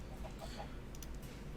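Chickens in the Minecraft video game cluck softly in a few short, quiet bursts over a low, muffled background.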